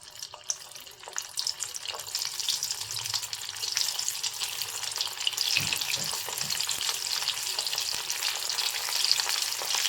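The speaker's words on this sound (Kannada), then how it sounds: "ಈ ಥರ ಈಗ ಆಯಿಲಲ್ಲಿ ಬಿಟ್ಕೊಳ್ಳೋಣ ಒಂದೊಂದೇ" Snacks are dropped one at a time into hot oil in a home kitchen, giving a steady, close bubbling sizzle throughout with faint clinks and stirring sounds and no talking.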